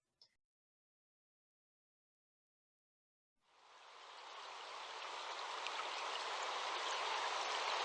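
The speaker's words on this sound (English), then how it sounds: "Take notice of the sounds of the forest." A forest stream flows steadily after a few seconds of near silence, starting abruptly and then holding as a continuous broad wash of running water with no voices.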